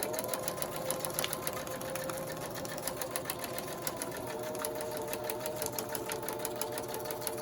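A sewing machine stitches steadily through toilet paper packaging, giving a fast, even mechanical whir with rhythmic needle ticks throughout, close and fairly quiet, with no speech.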